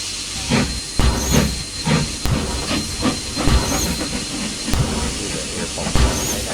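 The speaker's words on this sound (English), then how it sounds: "I've never liked the pump sound on any other models. It's kind of a noticeable pop to it." Air pump on a 4-6-0 steam locomotive in Trainz Railroad Simulator, a loud hissing steam pump giving rhythmic chuffing pops about once a second over a constant steam hiss, close and unaccompanied by talk.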